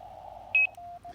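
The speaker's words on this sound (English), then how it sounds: "you're hearing that loud beep" A lab599 Discovery TX 500 portable radio gives a loud, clear electronic beep with a short double pulse, close up over a faint steady tone and low background hum.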